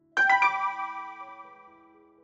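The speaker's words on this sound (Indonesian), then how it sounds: "Satu notifikasi pesan terdengar." A phone message notification plays a short bright chime: two quick bell-like tones struck close together, then a ringing tail that fades slowly over about two seconds, alone in near silence.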